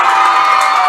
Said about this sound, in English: You can hear the Lake Mills crowd getting loud on this 4th down play